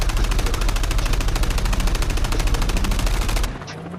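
Rapid automatic gunfire in Call of Duty online multiplayer, a dense, loud stream of evenly spaced shots that stops abruptly near the end, followed by a faint trailing sound.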